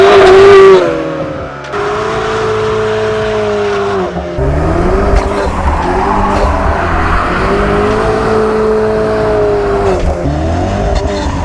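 A loud sports car engine revs hard and accelerates, pitch climbing and dropping through gear changes, with some tire noise, close and continuous.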